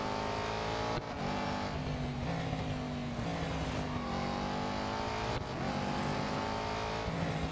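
Race car engines roar in the Real Racing 3 video game, a loud, continuous drone whose pitch climbs and drops sharply again with each gear shift, passing cars layered over one another.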